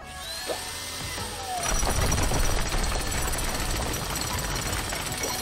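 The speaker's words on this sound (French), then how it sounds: "Tu vas casser le ciment avec ta perceuse?" Power drill breaking up dry cement on a construction site, a loud, steady grinding rattle that surges in and then holds for several seconds, close and continuous.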